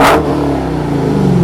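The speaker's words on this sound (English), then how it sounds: "maybe you can hear it rev" A Dodge Demon muscle car engine gives one short, loud, close rev that fades into a steady rumbling idle.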